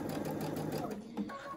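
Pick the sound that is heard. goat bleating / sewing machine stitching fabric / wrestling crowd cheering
sewing machine stitching fabric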